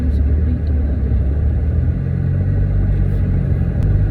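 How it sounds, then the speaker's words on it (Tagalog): A car passes along a road, its low engine rumble and tyre noise steady and fairly loud throughout, with no talking over it. "May sasakyan."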